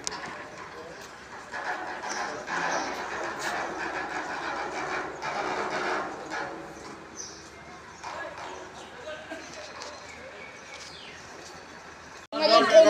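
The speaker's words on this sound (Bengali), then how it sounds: "ট্রেনে চড়ে গেলাম আমরা" A train rolls along the rails with a continuous rumbling clatter and light rhythmic knocks. Voices come and go over it, and a sudden louder burst swells in at the very end.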